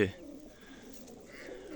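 Pigeons coo softly and close by, a low murmuring call over a quiet background, briefly and without talk.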